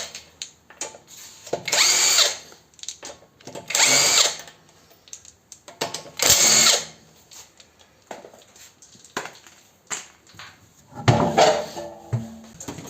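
Pneumatic impact gun on a Mercedes C200 wheel during a shock absorber change, firing in three loud buzzing bursts with short gaps, followed by clanks and handling noises of the wheel coming off.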